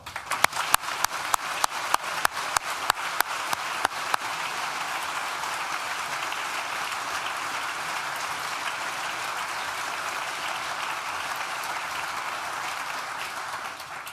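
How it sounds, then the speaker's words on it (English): Graduation ceremony crowd for Nottingham Business School at NTU breaks into applause, opening with a few sharp separate claps that quickly swell into a sustained, even roar of many hands, steady and moderately loud with no speech. "Please join me in thanking them with a well-deserved and a loud round of applause"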